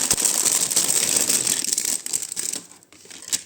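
Small plastic packet holding vintage costume jewelry being opened, close crisp crinkling and rustling with brief tearing, loud at first then thinning out into a few softer crackles.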